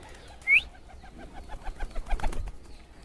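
A hand-tamed pigeon coos outdoors in a soft, rhythmic series of low throaty notes nearby, preceded by a brief sharp chirp-like squeak.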